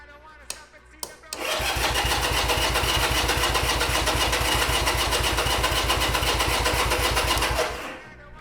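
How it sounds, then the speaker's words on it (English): A Honda CB200T motorcycle gives a couple of short clicks, then its starter cranks in a fast, steady, loud buzzing rhythm for about six seconds before cutting off, without the engine catching. "Let's see if we can get a little bit of a crank and start."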